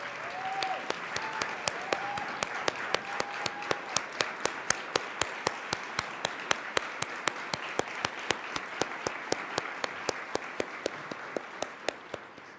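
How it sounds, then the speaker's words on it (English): Steady audience applause for nonprofit staff and leaders standing in a large room, with one sharp, close clapper's hands cracking out a regular beat above the soft, continuous crowd clapping, and a brief voice near the start. "I want every nonprofit staffer and leader to stand up and accept the applause of this room."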